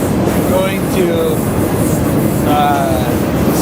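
A freight train rolls on rails from Lincoln toward Sioux City, with a loud continuous close rumble and occasional high wheel squeals drifting through, without speech.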